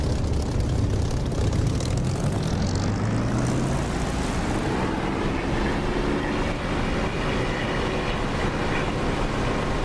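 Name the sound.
aircraft engine throttling up for takeoff in video game DCS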